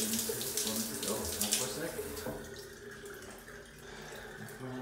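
Old shower head at a truck stop running at firm pressure, a steady hiss of water spraying close by, loud and continuous, easing slightly toward the end.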